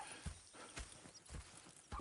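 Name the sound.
horses in video game Red Dead Redemption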